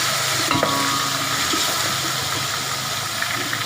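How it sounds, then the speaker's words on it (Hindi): Ginger and garlic hit browned onions frying in a pot for haleem, giving a steady, fairly loud sizzling hiss with a few light clinks near the start and no talking. "ये हमारा प्याज तैयार हो गया, इस तरह कलर आना चाहिए और इसमें हम अदरक लहसुन डालेंगे।"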